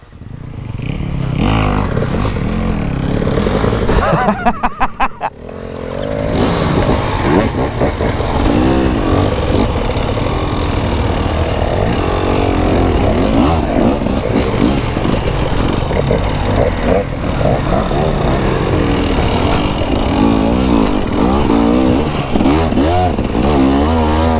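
A new KTM motorcycle's engine revs hard and continuously at close range while riding on wet, grippy tarmac, with a brief dip and rough clatter early on before the loud drone settles back in.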